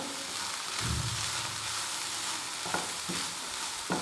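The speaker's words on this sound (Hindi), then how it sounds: "इन सारी चीज़ों को अच्छी तरह से मैं मिक्स करूँगी" A chicken filling mixture sizzling steadily as it is stirred and sautéed in a pan, with scraping strokes and occasional spoon taps against the pan, close and continuous.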